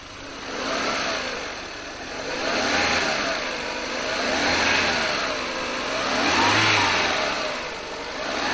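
A Renault Sandero Stepway with the 1.6 engine running, a steady mid-pitched drone with gentle swells in level every couple of seconds, close and fairly loud with no voices over it.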